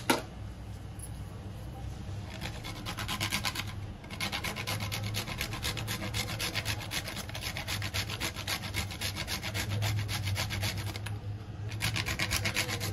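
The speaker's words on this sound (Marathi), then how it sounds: "थोडी वेलचीची पावडर घालूया आणि जायफळ किसून घालूया." Whole nutmeg is grated by hand over a sweet mixture of jaggery and cardamom for gram and peanut ladoos, giving a quiet, rhythmic rasping of quick repeated strokes with a few short pauses.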